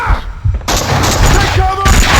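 Loud gunfire in the Max Payne video game, booming shots and bursts packed close together amid chaotic action, with shouted voices mixed in.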